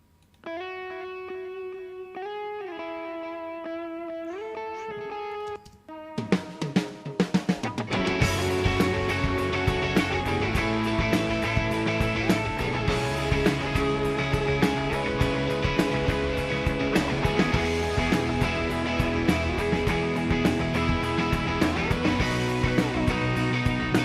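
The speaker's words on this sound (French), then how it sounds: "J'ai une reverb, entre guillemets, centrale pour mes guitares." A clean sustained guitar line rings out, then heavily distorted electric guitars crash in and keep playing a dense, washy riff, with a central reverb on the guitars during mixing.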